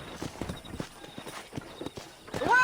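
Hooves clop unevenly and softly in the Red Dead Redemption video game as horses move about, followed by a short whinny rising at the very end.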